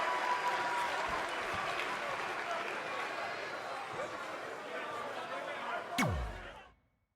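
An arena crowd in the WWE 2K20 video game applauds and cheers, a steady, fairly loud wash of clapping that thins out, then a sharp whoosh near the end before it cuts to silence.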